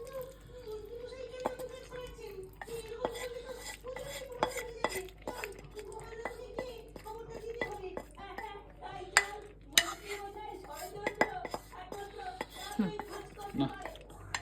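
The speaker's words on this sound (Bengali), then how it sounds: "দাও নেড়ে দিই আমি একটু, মানে মিক্স করে দিই মাংসটা এর সাথে" Kitchen sounds of chicken biryani meat being stirred and mixed in a cooking pot, with repeated metal spoon scrapes and clinks against the pot under steady conversation.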